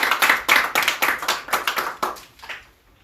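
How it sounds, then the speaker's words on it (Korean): Audience clapping in unison at a Korean political party founding promoters' meeting: crisp, loud, rhythmic claps in a steady beat, slowing and fading out near the end. "큰 박수 한번 부탁드리겠습니다."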